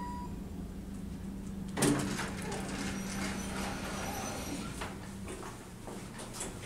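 A Dover Impulse elevator door on car 1 at a university building slides open, with a sudden clunk followed by a rolling rumble and rattles under a faint steady hum, close by and without speech.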